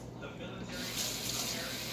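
Tap water runs into a sink while a Vidalia onion is rinsed, a steady close hiss that swells louder partway through and keeps going to the end.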